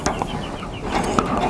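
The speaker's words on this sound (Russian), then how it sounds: "Вот наши несушки такие." Laying hens and roosters on a farm cluck close by, a run of short, overlapping clucks and calls that continues throughout.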